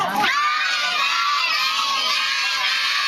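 A group of children at a first birthday party shout and cheer together at full volume, a loud, sustained burst of excited voices that holds steady throughout.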